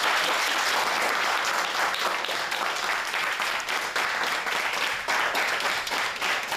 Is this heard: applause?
yes